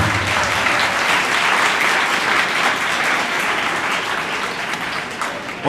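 An audience at a Christian youth church programme in Islamabad-Rawalpindi breaks into loud, sustained applause, a dense steady roar of many hands that holds evenly before easing slightly at the end.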